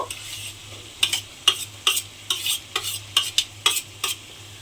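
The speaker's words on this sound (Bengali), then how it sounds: "মাছটা দিয়ে খুব ভালোভাবে মশলার সঙ্গে মিশিয়ে দিতে হবে" Boiled fish being stirred into a frying spice masala, a low sizzle beneath repeated sharp scrapes and clinks of a spatula against the pan, about ten strokes in an uneven rhythm, close, no voices.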